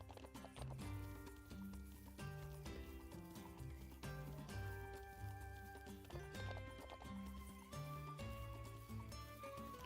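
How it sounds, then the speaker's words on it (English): In the video game The Ranch of Rivershine, a horse canters with rhythmic hoofbeats under continuous, fairly loud game music. "we can actually canter like underneath these bridges because we don't go too fast"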